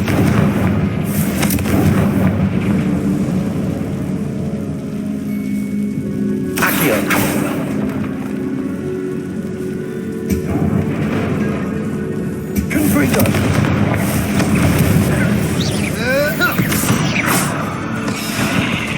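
Fiery Confringo spell blasts erupt in the video game Hogwarts Legacy, with loud explosive bursts over a dense, rumbling layer of game sound and some in-game voices.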